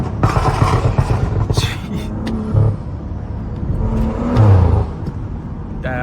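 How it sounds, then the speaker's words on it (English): A Stage 2+ tuned BMW 335i with a pops-and-bangs tune accelerates on a night city drive through an underpass. Its exhaust rumbles steadily, and brief swells mark harder throttle pulls. "that car sounds mad nasty"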